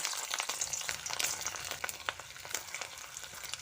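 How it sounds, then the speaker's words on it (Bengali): Busy, crackling sizzle of vegetarian kofta balls frying in hot white cooking oil, with dense irregular pops throughout and no voices. "কোপ্তাগুলো একে একে তেলের মধ্যে ছেড়ে দিচ্ছি"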